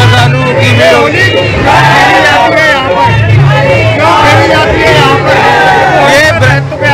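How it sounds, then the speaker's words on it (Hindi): Devotees gathered for Lathmar Holi at the Radha Rani temple in Rawal make a dense, loud, continuous hubbub of many overlapping voices with shouts and calls throughout. "देखिए आप कितने श्रद्धालु की भीड़ होगी।"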